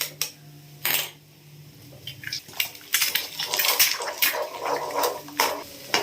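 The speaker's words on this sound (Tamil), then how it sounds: "வானல்ல கொஞ்சமாக எண்ணெய் விட்டுட்டு ஒரு மூணு முட்டை அளவுக்கு உடச்சி ஊற்றிக்கலாம்" Eggs cracked into a little oil in a pan and scrambled for egg podimas, with close clinks and scraping of a utensil against the pan over a soft sizzle, in irregular bursts.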